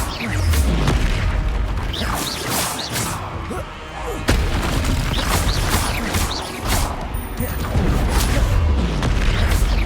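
Fire spell cast in Hogwarts Legacy amid a dense, continuous battle mix of booming blasts and crackling bursts, loud throughout with sharp impacts around the middle and near the end.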